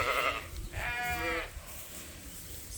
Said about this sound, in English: we're in with the dry ewes